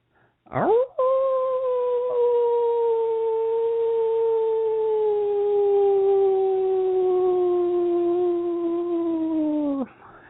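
A human voice imitates a wolf, a single long, steady howl under a full moon that swells quickly, holds strong and even for about nine seconds, then drops off sharply at the end.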